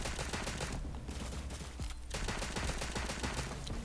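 Dense bursts of video game gunfire, including sniper shots, crackle continuously, loud and close, in Cyber Hunter, with a brief lull in the middle before the shooting resumes.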